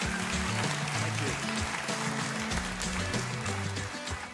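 Audience applause and cheering fill a conference hall at the opening of the 2023 Mackinac Policy Conference, a dense, steady wash of clapping heard alongside a speaking voice.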